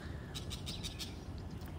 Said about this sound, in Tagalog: Pagpasensyahan nyo na mga kawaray yung mga ibon na naririnig nyo